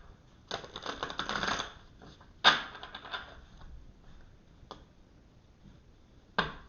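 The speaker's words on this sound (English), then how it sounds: "I'm going to shuffle the cards so that you can see them here." Imperial Gilded Tarot cards are shuffled near the microphone, with a riffling burst of rapid papery ticks, then sharp isolated snaps and card taps at uneven intervals in a quiet room.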